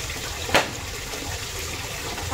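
Water flowing through a hose into a boat while making lambanog liquor, a continuous soft gushing flow with one brief sharp splash early on, fairly close and steady.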